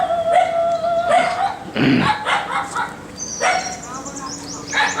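Several dogs barking and yipping in short, irregular bursts, fairly close, with some whimpering calls mixed in and no talk over them.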